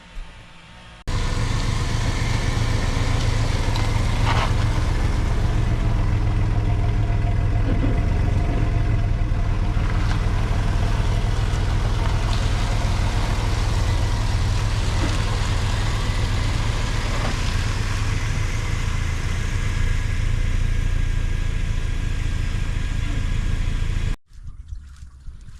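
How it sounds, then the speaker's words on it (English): A Chevrolet S10 pickup truck's engine runs steadily at close range as the truck is moved, a continuous low droning rumble that holds level for about twenty seconds before cutting off abruptly, with no talking. "Let's get this truck moved."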